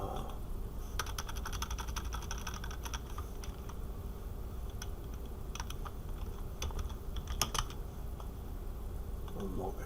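Rapid clicking of a computer keyboard in short bursts, close by, over a steady background hum.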